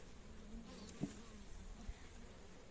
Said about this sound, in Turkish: Evet burada biraz arı var.